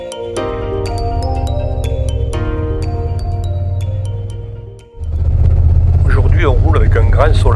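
A motorcycle cruises along a sunny road on a touring trip, its engine a steady loud drone that dips briefly, then returns rougher with heavy wind rush and a voice talking over it.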